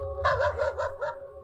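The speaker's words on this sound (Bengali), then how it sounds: "রাস্তার কুকুরগুলো কান্নাকাটিও করছে।" A street dog gives about five quick, evenly spaced barks with a slightly whining, yelping tone, fairly close and clear, on a rainy day.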